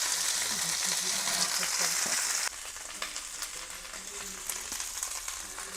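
Spicy prawns fry on an iron tawa with a steady, close sizzle and crackle, loud at first and then softer after a sudden drop, with faint stirring clinks and a little talking in the background.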